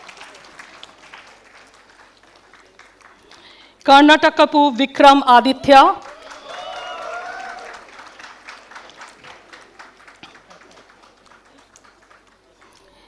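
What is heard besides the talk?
convocation audience applause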